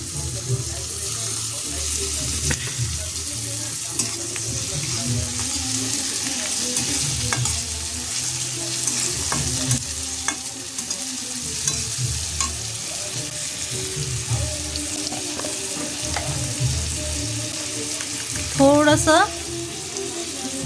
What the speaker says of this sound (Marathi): आता मी टोमॅटो टाकत आहे.